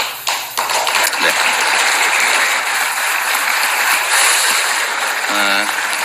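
Newly elected Democratic Party lawmakers applaud at the 2024 floor leader election event: sustained, dense clapping from a crowd fills the room, steady and fairly loud from start to finish, with no pause.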